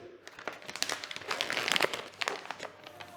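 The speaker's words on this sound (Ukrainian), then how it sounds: "Я відкриваю 5 пакетів." Plastic retort pouches being opened for mushroom soup, a close, quiet run of crinkling and crackling bursts with uneven rhythm, no talk heard.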